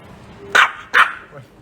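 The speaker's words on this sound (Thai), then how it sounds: "น้องก็ เห่าพี่แม่บ้านอยู่" A dog barks twice at a housekeeper indoors, two short sharp barks about half a second apart, fairly close and clear over a quiet background.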